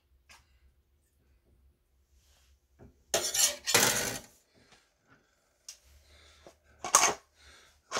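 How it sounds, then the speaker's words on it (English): A spoon stirs ham and beans inside a Crockpot Express pot, scraping and clinking against the metal in a few loud bursts separated by quiet stretches, with no talking. "Now we're going to give that a little mix here."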